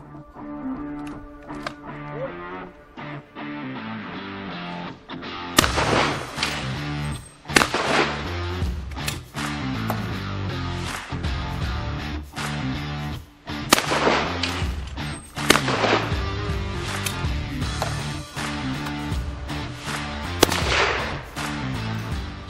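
A shotgun fires Lyalvale Express English Sporter cartridges at clay targets outdoors, loud sharp reports ringing out repeatedly at irregular intervals, some close together in pairs.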